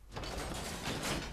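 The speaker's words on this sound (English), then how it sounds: "We should pull the lever and that door will open" Grinding, rumbling mechanism of a stone door sliding open after a lever pull in the Skyrim Creation Kit, a steady broadband scrape lasting a little over a second at moderate loudness.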